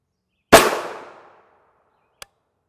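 A single sharp gunshot cracks loudly at a soft NIJ Level IIIA armor plate, its echo fading over about a second, followed by a faint short click.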